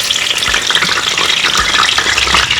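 Curry leaves and chicken fry vigorously in hot coconut oil, a loud, dense crackling sizzle with spitting pops and a few thuds of stirring, close up with no voices.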